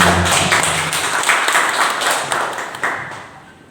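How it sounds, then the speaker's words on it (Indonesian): An audience at an Indonesian teacher-training event claps for Pak Subagya, a dense, loud burst of applause that gradually fades out. "Tepuk tangan untuk Pak Subagya"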